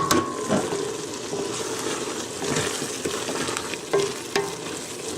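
Onions sizzling in a pan for homemade tomato sauce, with a spoon stirring and scraping through them; steady close frying hiss broken by a few sharp clinks and scrapes.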